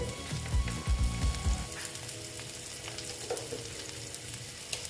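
Spice powders frying in oil in a pan and being stirred for a pumpkin curry, a few sharp sizzling bursts up front giving way to a steadier, softer crackle and scraping.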